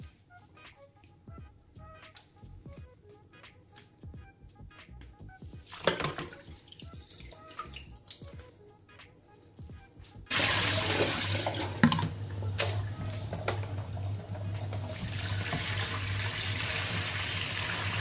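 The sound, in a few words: water rinsing cleaned fish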